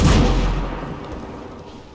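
Sniper gunfire in the video game Ghost Recon Breakpoint: one heavy, booming shot that opens loud and close, then fades through a long rumbling tail with no talk over it.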